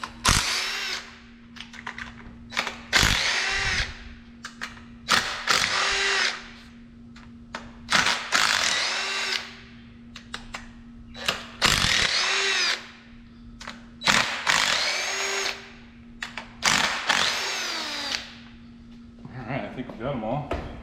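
A power drill spins off engine bolts on a WS6 Trans Am engine, working from the outside in, in repeated loud whirring bursts of a second or two separated by short pauses.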